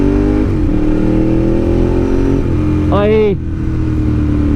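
A Ducati 1098 motorcycle engine at a loud, steady idle that briefly revs up and drops back near the end, heard up close with a brief voice mixed in.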